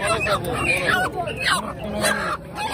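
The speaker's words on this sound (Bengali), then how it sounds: "বড় সাইজের মোরগ।" A rooster at a village market gives repeated loud, close squawking and honking calls, with crowd noise and voices in the background.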